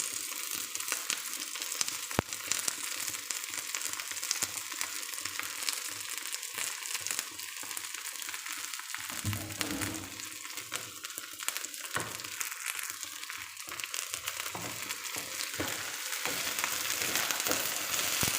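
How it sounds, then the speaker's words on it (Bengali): Cleaned okra sizzling and frying in a hot pan, a steady crackling hiss with scraping and stirring noises throughout, fairly quiet with no voices. "এখন পরিষ্কার করা ভেন্ডিগুলো দিয়ে দিই"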